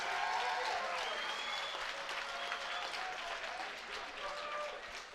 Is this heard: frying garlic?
no